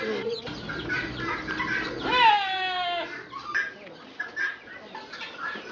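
Hens cluck and squawk close by, with one drawn-out rising call in the middle, over soft background chatter and farmyard noise.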